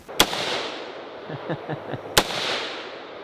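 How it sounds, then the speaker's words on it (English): Two sharp, loud rifle shots from an AR fired at pumpkins outdoors, spaced about two seconds apart, each with a short echoing tail and a few faint knocks between them. "That was the AR."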